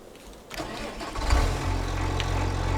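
A tractor engine in Farming Simulator 25 cranks and turns over, then settles into a steady, rumbling idle; the sound has a synthetic, game-like quality.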